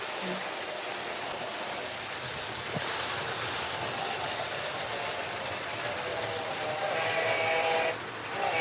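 A model train engine runs along a home layout, giving a steady, fairly close mechanical rumble and rail noise that continues throughout and swells briefly near the end.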